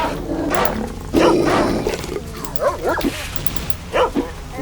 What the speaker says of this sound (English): The knife is probably your best bet against dogs sometimes.